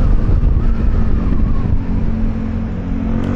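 A Fortress 160 motorcycle engine revs loudly and steadily up close, the throttle twisted and held with a continuous rumbling drone and no voices.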